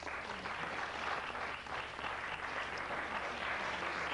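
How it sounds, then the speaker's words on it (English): Studio audience applauding on a late-night talk show, a steady, moderately loud spread of clapping from many people lasting several seconds without speech over it. "People applaud if you've seen one."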